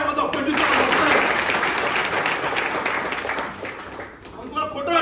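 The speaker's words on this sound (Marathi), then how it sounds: "मग अजून जोरात टाळ्या वाजवा" An audience at a motivational success-story talk applauding loudly, a dense sustained wash of many hands clapping that tapers off near the end, with faint voices underneath.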